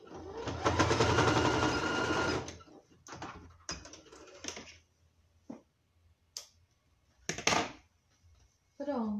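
A sewing machine stitches the edge of an apron made from a tea towel and printed vegetable-border fabric, running in a loud steady burst at first, then in short stops and starts.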